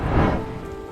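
Rain and storm in a Hindi cartoon story, a steady broadband wash of rainfall with a low rumble, loud and close throughout with no talking.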